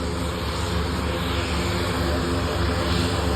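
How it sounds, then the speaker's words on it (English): A Douglas aircraft flies past at a small airfield, its engine drone a steady, loud, broadband roar that holds constant through the whole stretch. "That is definitely a Douglas."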